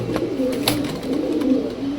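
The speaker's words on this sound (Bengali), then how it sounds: "এটা হলো একজোড়া কেটিএম কবুতর" A pair of KTM pigeons coos in a pigeon market house: steady, close, low throaty cooing that rolls on without a break, with no voices over it.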